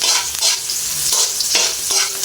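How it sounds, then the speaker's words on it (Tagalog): Garlic sizzles steadily in a hot pan while a spoon stirs it, with scraping strokes recurring every half second or so, close and fairly loud, with no talking. "Then isama natin ang ating bawang"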